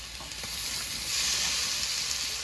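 Minced chicken sizzles steadily in a pan with lightly fried onion and ground garlic-ginger, a continuous close frying hiss that swells slightly partway through, with no voices.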